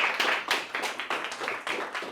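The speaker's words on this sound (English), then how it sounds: "with a round of applause from the audience, you can go back to your seat." Clapping from a small audience at a parlour séance show in a bar, a round of applause with rhythmic surges of claps, moderately close and without talk.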